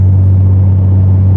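Steady, loud low-pitched exhaust drone heard inside the cabin of an Audi fitted with CanAuto headers and resonated mid-pipes, cruising in fifth gear at low RPM, an unbroken hum with no talking.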